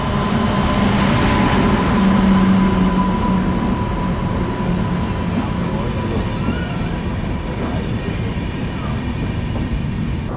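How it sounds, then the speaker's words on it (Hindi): Bangalore–Kanyakumari Express passenger train arriving at Kadakavur railway station in Kerala, a loud continuous rolling rumble of coaches that gradually eases and fades over ten seconds, with no speech. "बेंगलोर कन्याकुमारी एक्सप्रेस से, जो कि आ रही है बेंगलोर से और जा रही है कन्याकुमारी।"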